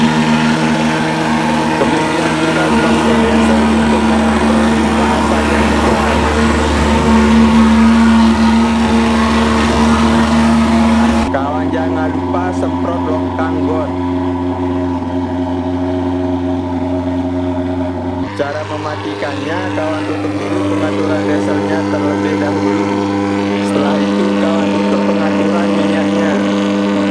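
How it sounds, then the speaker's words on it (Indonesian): A diesel engine runs steadily with a loud, continuous droning hum and stable low tones, the pitch shifting slightly partway through, while a person talks over it. "Kemudian nyalakan diesel untuk mengontrol limbah asap yang keluar."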